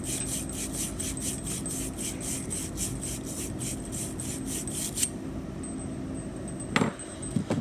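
A pipe being scrubbed clean before soldering, with about fifteen quick, steady back-and-forth rasping strokes up close, then a pause and a couple of light knocks.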